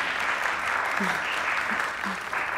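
Audience applause for Emma Willoughby, a steady dense clapping from a crowd that holds at even loudness throughout, with a few brief voice-like sounds poking through the wash.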